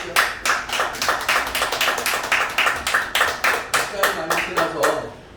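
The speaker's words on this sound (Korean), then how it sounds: "박수 한번 쳐주시죠." An audience at a life-school lecture claps in unison, a fast, rhythmic burst of hand claps at steady tempo lasting several seconds before fading out.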